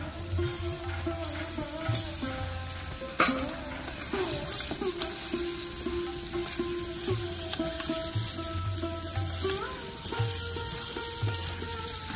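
Chopped raw mango pieces dropped into hot oil with turmeric and tempering spices, giving a continuous close sizzle and frying hiss, with a sharp clatter as they go in and occasional stirring scrapes.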